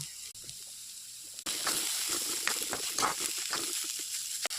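Cauliflower pieces dropped into hot oil with toasted black cumin set off a sudden loud, steady hiss and crackle that starts abruptly and continues close by.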